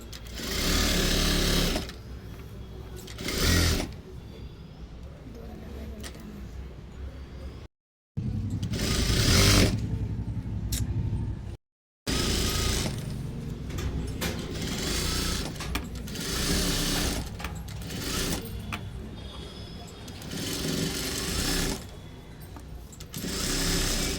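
A sewing machine stitches darts on a blouse in loud, steady whirring runs, broken by brief stops and short pauses between bursts, with no speech.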